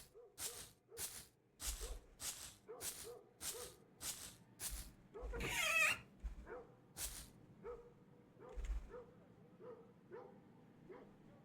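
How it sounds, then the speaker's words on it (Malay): A dog in the Silent Flames horror game barks in a steady series of sharp, evenly spaced woofs, fairly close and loud, with one longer rougher burst midway. "Ni anjing."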